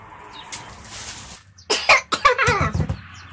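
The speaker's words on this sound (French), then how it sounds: "Dès que je parle, je tousse." A few sharp, close coughs in quick succession after a quieter stretch of background noise.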